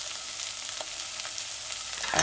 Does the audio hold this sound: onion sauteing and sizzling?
yes